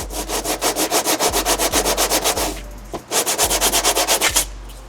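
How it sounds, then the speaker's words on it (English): Sandpaper scrubs back and forth across a BMW brake rotor in a fast, even rhythm of loud, close rasping strokes, pausing briefly before the scrubbing resumes. "you take a piece of sandpaper, not too fine, not too coarse, and you go back and forth"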